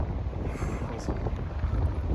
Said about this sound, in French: Là, il fait 21, mais il y a grave du vent.